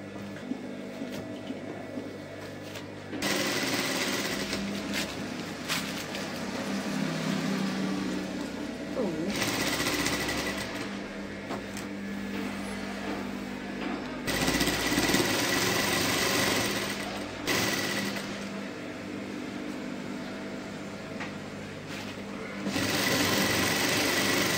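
A sewing machine runs in long whirring bursts while stitching the side seam of a kurti, with pauses between runs; a person talks intermittently over and between the stitching.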